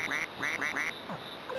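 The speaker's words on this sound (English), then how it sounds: "Makes duck sounds." A cartoonish duck quacking in the video game Suikoden II, a quick run of four or five nasal quacks followed by a couple of lower squawks, faint and alone.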